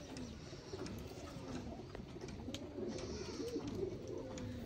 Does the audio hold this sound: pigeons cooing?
yes